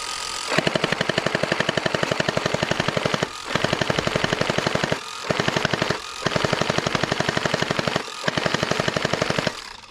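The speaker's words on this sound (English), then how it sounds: "Now let's fire some shots downrange to get an idea for rate of fire." A Hydro Strike Stratos Pro gel blaster fires hydrated gel rounds in rapid full-auto bursts, loud and close, with several sustained strings of rattling shots separated by brief pauses.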